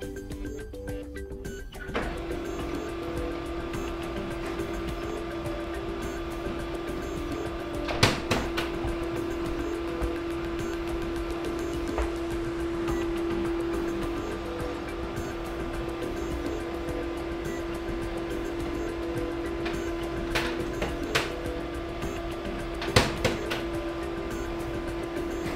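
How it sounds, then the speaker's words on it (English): An HP Color LaserJet Pro M252dw printer runs its color calibration with a steady mechanical hum and whirring. Sharp clicks and clunks from the mechanism cut through at a few points, and nobody speaks. "Click color calibration and choose calibrate now."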